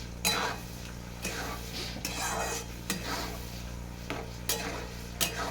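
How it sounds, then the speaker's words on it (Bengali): Onion greens fried in fish oil are stirred in a pan with salt and turmeric, a spoon scraping and clinking against the metal in repeated strokes over a constant close sizzle, with no talking. "নুন আর হলুদ দিয়ে আমি এটাকে আবার নেড়ে ছেড়ে নেবো এইভাবে ভেজে নেবো"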